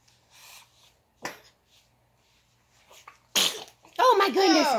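A small child sneezes at home: soft breathy sounds, then a sharp sneeze burst, followed by an adult's voice speaking close by.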